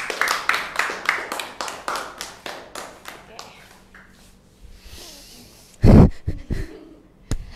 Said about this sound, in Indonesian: kita beri tepuk tangan untuk Namira.